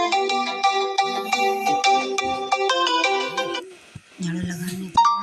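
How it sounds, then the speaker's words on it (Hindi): A mobile phone ringtone from an incoming call plays a bright, repeating melodic pattern for several seconds and then cuts off abruptly, followed by a brief burst of a voice. "अब किसी का फ़ोन आ गया था, मैंने काट दिया।"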